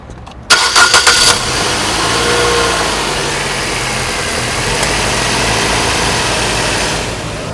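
A Nissan Sylphy 1.8 car engine cranks and catches after a brief pause, then settles into a steady, even idle that hums on without interruption.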